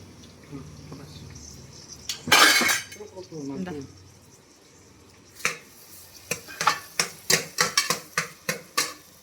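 Onions and green chillies sautéed in a pan, a loud scrape and sizzle burst early, then a run of rhythmic metallic clacks from a spoon stirring against the pan, with voices talking in between.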